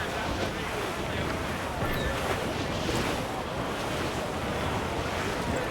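A sailing ship running through a squall in the video game Assassin's Creed IV, with steady roaring wind and crashing surf at constant loudness throughout and no pauses.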